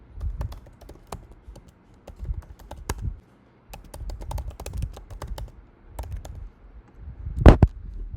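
Fingers type a username and password on a computer keyboard in irregular bursts of close, crisp key clicks, with short pauses and one louder tap near the end.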